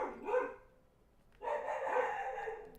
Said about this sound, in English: They're barking a lot right now.